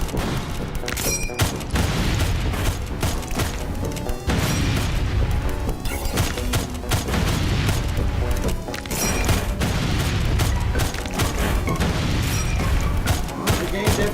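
Pistol shots from The Lost Stranger video game ring out in a long, irregular series of sharp cracks and booms, mixed with crashing game effects and occasional talk.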